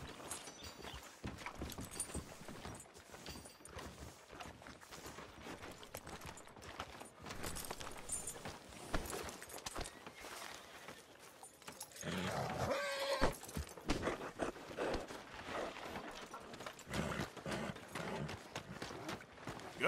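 In the Western video game Red Dead Redemption 2, horse hooves clip-clop steadily and a horse neighs now and then. The sound is dense and continuous, with game ambience and rustling mixed in.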